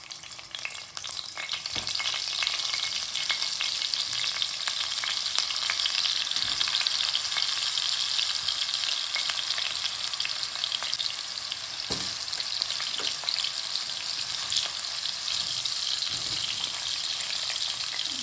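Potatoes fry in plenty of hot mustard oil in a wok, a dense, loud and continuous sizzle with occasional knocks of a spatula turning them, close up and with no speech.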